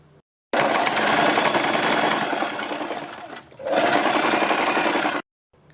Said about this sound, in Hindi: अपने शोल्डर पर सिलाई लगानी है